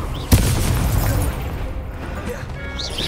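Confringo spell blast in the video game Hogwarts Legacy, one sharp loud boom that breaks into a rumbling crackle and fades under game sounds.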